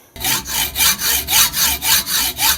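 A hand saw cuts a metal part from an MBK 51 moped engine in short, steady back-and-forth strokes, about eight loud rasping passes in even rhythm, close up with no talking.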